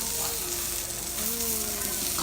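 Steady, dense sizzling of pepper steak frying on a hot Korean barbecue grill, loud and continuous throughout, with no talking.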